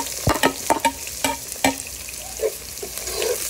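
Onion going into oil with golden-browned garlic, crackling and sizzling in a pan, with a quick series of sharp scraping stirs followed by a softer steady fry.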